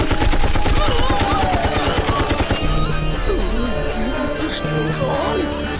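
Rapid automatic gunfire rattles in loud, dense bursts during an Indian movie fight scene for a couple of seconds. Dramatic music and voices then take over, with a few more shots mixed in.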